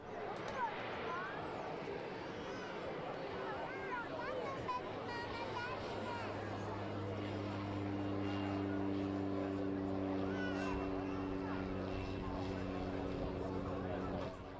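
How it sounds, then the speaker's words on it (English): A Pilatus PC-6 Turbo Porter propeller aircraft drones at the Croatian International Airshow in Varaždin. A steady turboprop hum builds and holds in the background beneath continuous narration. "This is the PC-6 turboporter, just like the PC-9M, a design from the Swiss aircraft manufacturer Pilatus."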